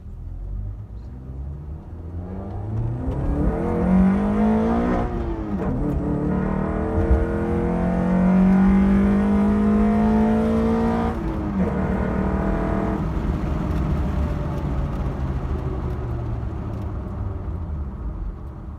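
A car with a Honda K-series engine hums and rumbles while driving, its pitch rising and falling through gear changes, with steady road noise underneath.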